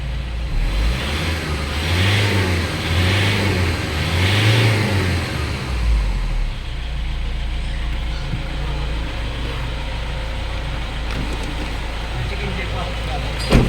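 A Toyota Innova engine, suffering a check-engine fault, revs in a few rising pulses while warming up, then drops to a steady, loud idle hum, with people talking over it.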